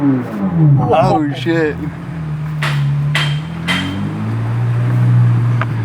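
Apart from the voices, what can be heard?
2023 Chevrolet Corvette Z06 engine revving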